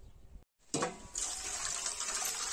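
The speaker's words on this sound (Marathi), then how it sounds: "तर बघू आई गहू कसं धुतात तर कुरवड्यासाठी." Water pours and splashes steadily into a vessel as khapli wheat grains are washed by hand for kurvadi, following a brief silent gap and a louder splash. The sound is close and continuous.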